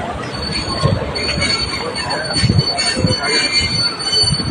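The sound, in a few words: train passing on rails in Yangon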